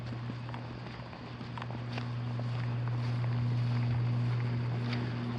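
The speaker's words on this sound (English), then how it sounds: "Listen to that air conditioner hum." Outdoor air conditioner unit beside a house, giving a steady, close, low electrical hum with a faint higher tone, plus light wind rustle and occasional small clicks, with no talk.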